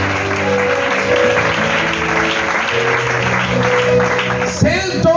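A church congregation applauding to acclaim Jesus at an Easter service: dense, steady clapping from many people over sustained music, then a brief sharp shift near the end.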